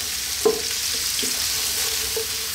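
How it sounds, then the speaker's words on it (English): Onions for a meat sauce frying in a pan over medium heat, giving a constant soft sizzle with a couple of light utensil knocks and stirring scrapes, no voices. "Give it a stir every now and then."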